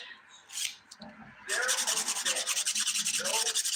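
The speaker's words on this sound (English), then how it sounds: "I could just sit here and spend all day fixing my nails, filing them" A nail file rasps steadily against fingernails in quick, even back-and-forth strokes, loud and close, after a few softer scrapes at the start.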